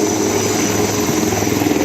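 Indian Navy military helicopters fly during a Navy Day event, giving a loud, steady rotor and engine drone with a fast chopping pulse throughout.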